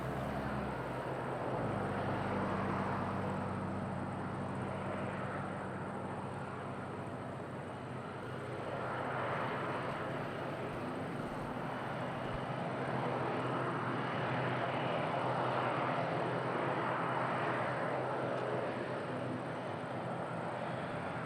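A Ryanair airliner lands on runway 05 at Madeira Airport in a strong tailwind, its jet engine roar steady and fairly distant, swelling and fading over a long approach with windy background noise.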